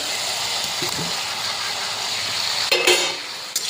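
Fried taro pieces (gati kochu) for a vegetarian dalna are tossed into hot masala in a pan: a steady close sizzle, with brief knocks and scrapes of stirring near the end.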